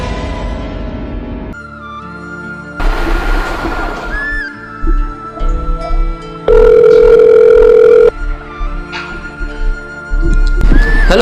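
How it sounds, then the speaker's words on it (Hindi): A telephone rings in repeated bursts of bright electronic tone separated by gaps, loud and close, with louder steady tonal stretches and other indoor noise between rings; no one speaks. "उठाओ एक बार फोन उठाओ।"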